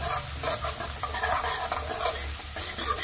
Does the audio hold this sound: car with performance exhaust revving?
no